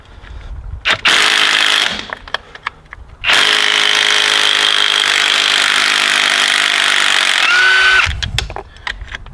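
A power tool, likely an impact-style wrench, loosens a bolt on the upper front control arm of an Audi A4's front axle, whirring loudly and steadily in two long bursts with clanks and pauses between.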